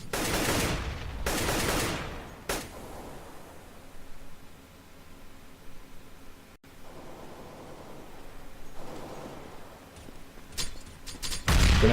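Grenades and gunfire in a professional Counter-Strike: Global Offensive match between Natus Vincere and Virtus.pro, heard as loud noisy bursts at the start, a quieter muffled stretch, then renewed rattling shots toward the end.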